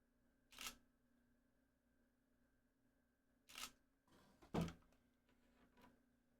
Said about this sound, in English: I'm going to take a picture of that.